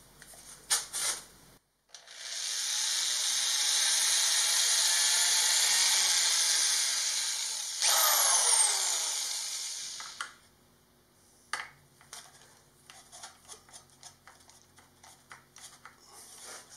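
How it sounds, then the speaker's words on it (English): Power drill boring holes for a fuse box mounting on a DIY lithium battery build, a steady loud whirring run of about eight seconds that shifts pitch partway through, followed by scattered clicks and handling noises. "Now I'm going to drill some holes for the fuse box."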